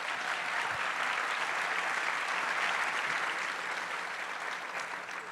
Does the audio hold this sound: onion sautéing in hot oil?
no